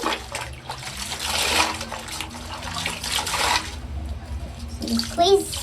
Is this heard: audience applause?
no